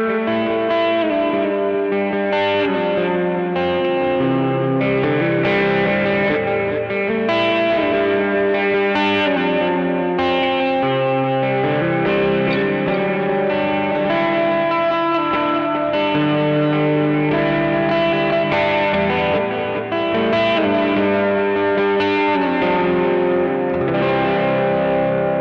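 An electric guitar on its middle pickup plays through a small pedalboard with reverb added. A loud, continuous stream of chords and notes is heard, with a washed-out, effected tone throughout and no talking.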